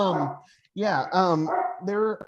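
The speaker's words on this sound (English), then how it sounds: "Sorry about the dogs in the background" Dogs bark and yip in a quick series of bright, tonal barks in the background, loud enough to stand clear of someone talking.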